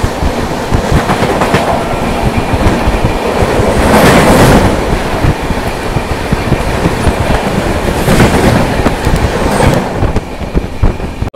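A Duronto Express passes at Bareilly Junction, loud and close, with continuous clattering wheels and rhythmic clickety-clack over rail joints.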